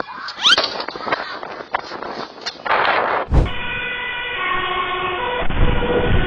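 An ambulance siren wails in a steady, multi-tone sound through the second half, following rough street noise and a sharp impact-like burst.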